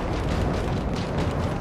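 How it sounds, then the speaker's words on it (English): A bomb detonates in the video game Gears 5 during an Escape mission, a loud, sustained broadband rumble that roars steadily without pause, dense low-end boom filling the whole moment with no speech over it. "There goes the bomb!"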